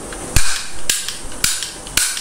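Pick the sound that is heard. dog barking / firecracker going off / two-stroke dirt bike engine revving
firecracker going off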